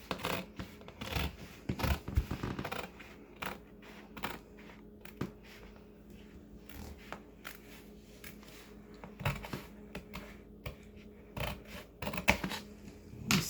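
Scissors cut fabric for a simple kimono bubu dress: quiet, intermittent snips and scraping strokes at close range, with no talking.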